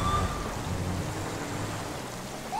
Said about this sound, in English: And obviously it is raining.